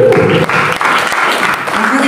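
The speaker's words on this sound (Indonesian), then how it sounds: "Tepuk tangan buat Tuhan" Congregation clapping during a church prayer and fasting session at Gunung Salak, Bogor, a loud burst of dense applause filling the room, briefly mixed with voices.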